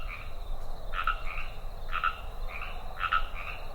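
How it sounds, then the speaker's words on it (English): A frog in a children's animated story croaks three times in a steady rhythm, each short burst about a second apart, moderately close over a soft night-time background hiss. "lived a very special little frog with the biggest heart"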